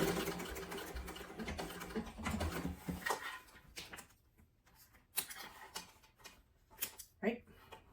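A sewing machine runs a basting stitch across the bottom of a fabric sling bag, a brisk mechanical whir in the first three seconds, followed by sparse clicks and handling taps.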